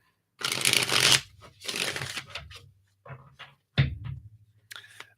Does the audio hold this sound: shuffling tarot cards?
yes